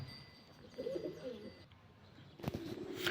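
Faint pigeon coos from a backyard loft flock, low and soft, followed by a sharp flutter of wings as the birds take off; quiet outdoor setting with a high steady tone in the background.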